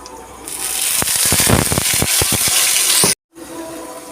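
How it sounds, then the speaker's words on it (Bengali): Nigella seeds and spices hit hot frying oil with a sudden loud, crackling sizzle that holds steady for about three seconds, then cuts off abruptly and resumes more quietly. "এই তেলের মধ্যে ফোড়নে দিয়ে দেব কালো জিরে"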